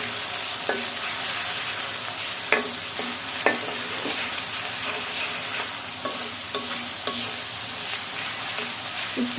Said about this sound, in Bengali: সুন্দর করে একটু ভেজে নিলাম